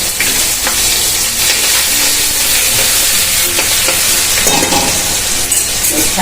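Ginger, chili and garlic paste hits hot oil already tempered with mustard seeds, cumin and asafoetida, sizzling and spattering loudly and continuously, close up, with a little stirring.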